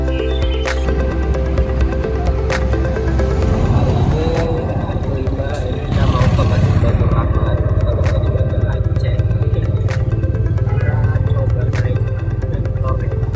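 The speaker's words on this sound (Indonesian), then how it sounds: "Pak, ini namanya apa Pak? Becak mesin." A motorized pedicab (becak mesin) in Aceh runs with a steady low engine rumble and some clatter, heard close, while people talk and a murmur of street babble continues throughout.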